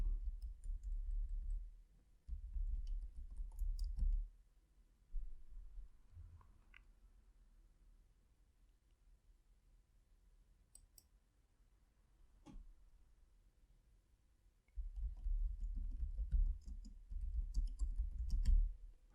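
Sparse, quiet mouse clicks while operating Wolfram System Modeler software, heard as sharp single ticks over a low background hum.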